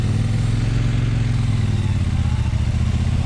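A Triumph Bonneville Bobber motorcycle engine rumbles steadily on a test ride, a loud, close, low throbbing pulse that holds without pause.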